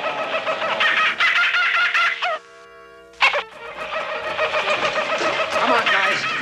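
A comic cartoonish bird call in a TV sitcom: loud, repeated gobbling and clucking squawks in rapid bursts, broken by a short tonal whistle-like trill and a sharp squawk before the chatter resumes.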